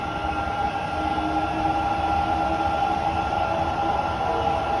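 A Sapporo subway train bound for Miyanosawa, heard from inside the car: a steady, loud rumble and whine of the train running through the tunnel, continuous with no announcements or talking.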